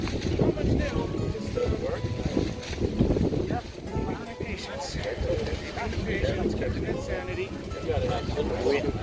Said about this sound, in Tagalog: Windy day, eh?